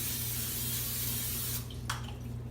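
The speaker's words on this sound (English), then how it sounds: "I'm going to spray with my cooking spray" Cooking spray hisses onto a baking pan in a steady, close aerosol spray over a low background hum, ending with a short final burst.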